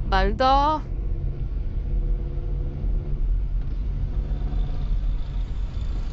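Heavy road traffic crawls in a jam beside a road construction site, with a steady low rumble of car and truck engines throughout and a person talking briefly at the start.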